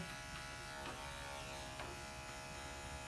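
Electric dog grooming clippers buzz steadily and close while trimming the armpit of a matted Shih Tzu, a continuous motor hum throughout.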